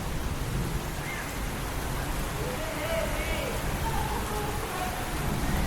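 Heavy rain pours steadily outside a balcony, a dense even hiss of water with no distinct drops standing out, and a voice speaks faintly beneath the downpour.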